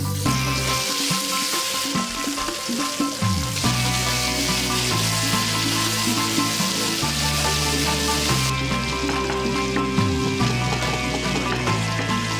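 Turmeric, ginger, garlic and onion paste sizzles loudly in hot oil in a pan, a continuous crackling fry with occasional stirring scrapes throughout.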